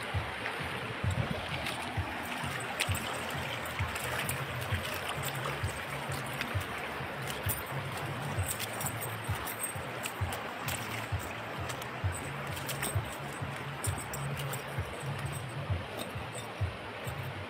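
Steady sloshing and splashing of someone wading through murky, coffee-coloured flood water, continuous and close with no talk.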